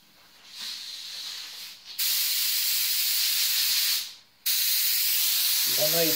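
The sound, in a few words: spray painting a base coat on a plaque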